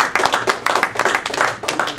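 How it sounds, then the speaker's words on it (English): Hands clap in applause for a speaker at an evening talk on holiday depression, a small audience giving a short burst of close, bright, fairly loud claps with no voices over it. "let's have a good round of applause for our speaker tonight"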